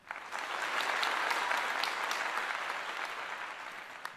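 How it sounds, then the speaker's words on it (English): A crowd applauds steadily, dense clapping swelling quickly and then slowly tapering off. "Let's give them an enormous applause."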